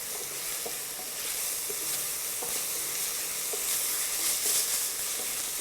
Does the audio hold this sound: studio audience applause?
no